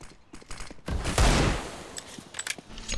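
Gunfire in Counter-Strike: Global Offensive, a burst of rapid shots with a loud, dense blast in the middle, fairly close, with almost no talk.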